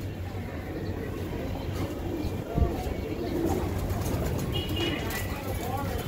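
A pair of ranging-line (chharachhari) giribaz pigeons coo softly and steadily at close range, with a person talking over them and one short thump partway through.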